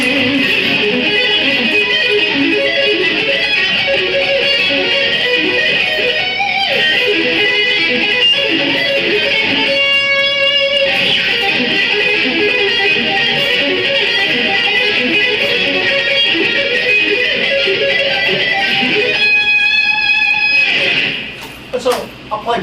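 Electric guitar playing fast sweeping 4-string arpeggio shapes, loud and continuous with dense rapid note runs and brief sustained chords.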